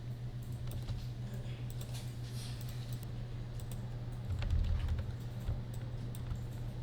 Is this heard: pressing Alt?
yes